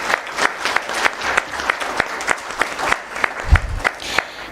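An opening ceremony crowd applauds steadily, many hands clapping close by in a dense, continuous patter with sharper individual claps standing out.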